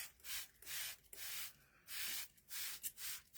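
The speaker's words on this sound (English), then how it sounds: "So I'm just spraying this whole thing. Just going right over it." A spray bottle mists a coffee and water mixture over faux fur in repeated bursts, each hiss lasting about half a second with short pauses between, close and fairly quiet.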